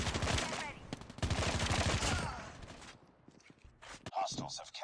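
Rapid automatic gunfire in the mobile shooter COD Mobile during a hardpoint match, bursts of close shots for about three seconds, then quieter game sounds with a few more scattered shots.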